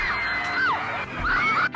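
Michael Jackson fans screaming outside Madame Tussauds, a loud, sustained crowd roar of high-pitched shrieks and cheers pressing close and continuous.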